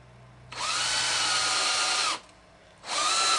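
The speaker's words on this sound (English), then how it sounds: "now we're just going to drill those spots where we made those marks, making pilot holes for those screws" A power drill bores pilot holes in plywood in two bursts, a long whine lasting over a second and a half, a short pause, then a second run starting, loud and close.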